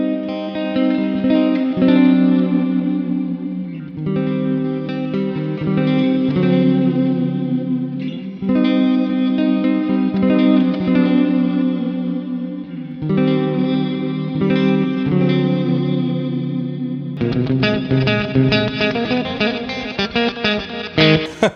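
Electric guitar played through the shimmer reverb of a Mooer GE200 Plus multi-effects unit, rich sustained chords swelling into a bright, washy tail, with a denser strummed passage near the end, loud and continuous.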